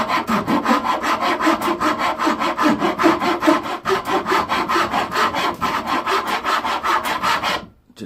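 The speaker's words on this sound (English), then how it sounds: "I'm just smoothing this off with a good wood file" A wood file rasps across a guitar neck headstock in quick, regular back-and-forth strokes, close and loud, running steadily for several seconds before stopping abruptly.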